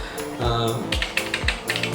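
Keys clacking on a Razer membrane gaming keyboard, a run of quick close-up taps with a few heavier strokes over a steady low hum.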